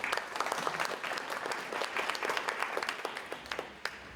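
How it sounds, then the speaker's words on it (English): Warm audience applause at a historical society annual meeting session, a steady dense crowd clapping for the moderator with no talk over it. "let's give a warm round of applause for Jeff Rosenberg"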